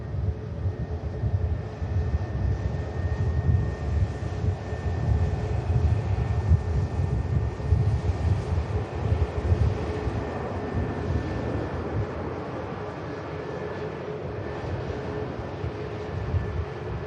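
An EasyJet airliner taxiing at Manchester Airport toward a holding point, its engines giving a low, steady rumble with a faint whine, moderately distant and fairly constant.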